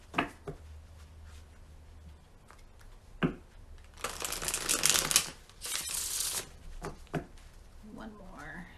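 Tarot cards riffle and rustle in a few short bursts of shuffling, with soft handling clicks before and after, close by.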